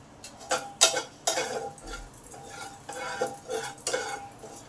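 Black cumin, a whole chilli and bay leaves fry in oil while a spatula stirs and scrapes the pan, giving irregular sharp clicks and scrapes over a soft sizzle, close by.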